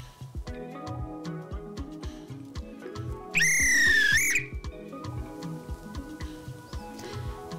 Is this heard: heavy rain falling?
no